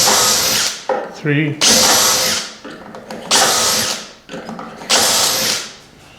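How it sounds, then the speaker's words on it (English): A power drill whirs through wood in three loud bursts, with brief pauses between, and someone speaks a few words in between the runs. "So we drill 2"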